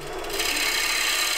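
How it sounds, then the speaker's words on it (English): A sharp chisel cuts into a large wooden bowl on a lathe, giving a brief, loud, close rasping shave that swells into a bright, continuous scraping hiss. "just listen to the sound that the sharp chisel makes when it cuts into the wood"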